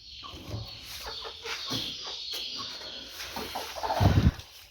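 A hen with a changed, broody temperament clucks in a series of short calls, louder near the end, with no talk over it.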